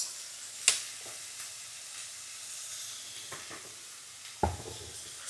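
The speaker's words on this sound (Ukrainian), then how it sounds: "І постійно помішуючи, бо вогонь великий." Funchoza glass noodles sizzle steadily in a frying pan over high heat, with a constant soft hiss and a couple of sharper clinks and scrapes as they are stirred, heard close with no talk.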